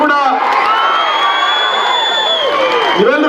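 A large crowd cheers loudly at a political event as Karnataka Chief Minister Siddaramaiah comes onto the stage. The roar of voices holds steady throughout, with shouts and whistle-like tones over faint clapping.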